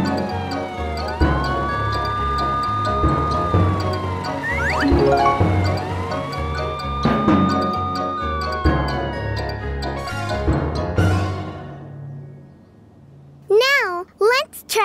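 A cartoon police car siren in the Morphle children's cartoon wails in rising and falling tones beneath lively show music and animated voices talking over it, ending in a few short bright electronic chirps.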